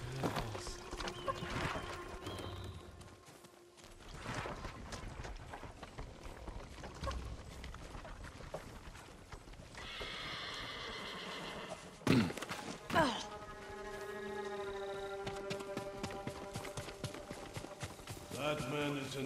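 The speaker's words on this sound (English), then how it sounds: "Follow those horses." Horses clatter past with hooves clip-clopping and a whinny rising at one point, mixed with thuds and bustle at moderate distance.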